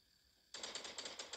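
A long range rifle opens fire in the video game Gangstar: New Orleans, cutting in sharply after brief quiet and settling into a fast, even run of crisp, clattering shots.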